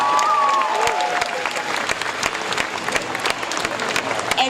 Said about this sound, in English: Ladies and gentlemen, please give Tim a huge round of applause.